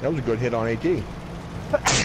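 A single short, sharp sneeze bursts out right after a person finishes talking during a World of Tanks game session.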